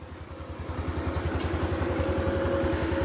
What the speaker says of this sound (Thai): ก็คือเครื่องติดเลยนะครับ อันนี้ สามารถขับขี่ได้เลยครับ